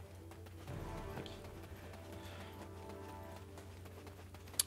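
Horse hooves clip-clop at a steady, moderate level while riding a horse in the Black Desert video game, a continuous low rhythmic patter with a brief sharp tick near the end and no speech.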